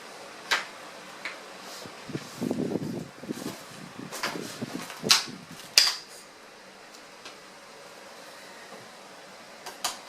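A Britax Flexx stroller locked and folded, giving scattered plastic clicks, latch snaps and rustling handling noises, with two sharper clacks near the middle, close by and without speech.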